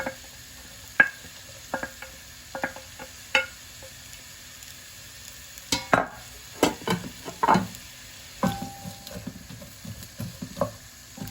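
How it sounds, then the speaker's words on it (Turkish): Onions and garlic frying in a little oil alongside fatty meat, with scattered stirring scrapes and soft sizzling bursts, close by and moderately loud, no talking. "Şimdi soğanı kavuracağım."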